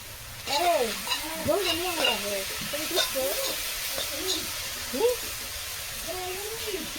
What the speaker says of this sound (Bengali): এই যে দাদা ভাই মাছ দিয়ে কপি দিয়ে একটা ঝোল রান্না করছে